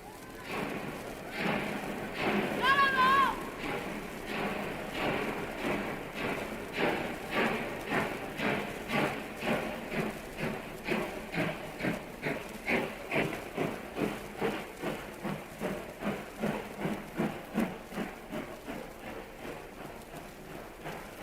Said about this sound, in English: in a moment this train moves out to an unknown destination